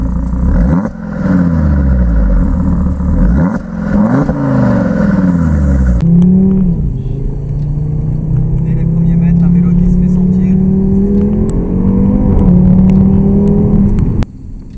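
Audi TT RS Plus with a 2.5-litre TFSI five-cylinder engine making 360 horsepower, revving in close rising and falling sweeps before settling into a steady droning acceleration, with someone talking over it.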